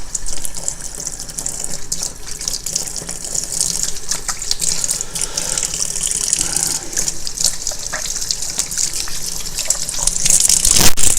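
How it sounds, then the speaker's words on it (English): Hands being rinsed under a running kitchen tap during cookie baking, a loud, close, continuous gush of water that swells a little louder toward the end, with no speech. "Let me rinse my hands."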